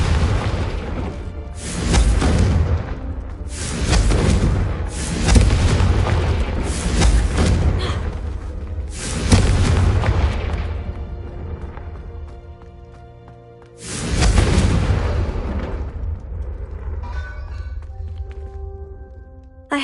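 Repeated booming Confringo spell explosions in Hogwarts Legacy, several loud blasts in quick succession followed by a long rumbling decay and one more heavy burst later.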